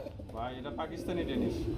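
Pigeons kept for sale, including black Pakistani-blood Danish pigeons, coo in low, throaty calls close by while people talk over them.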